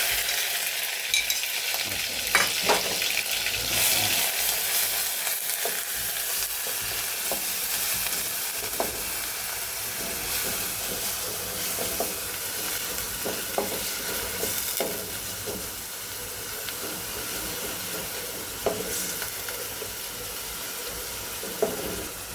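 Garlic frying in a pan while being stirred, a constant loud sizzle with scattered scraping strokes and clinks of the utensil running throughout, close up and with no talk.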